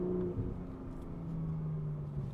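A 2022 Porsche Boxster GTS 4.0 engine drones steadily from inside the car while driving, a low, even hum that stays fairly quiet with no voices.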